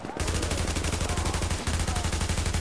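Rapid bursts of gunfire crackle in The Division shooter game, a steady stream of repeated shots running almost without pause over a low droning musical score.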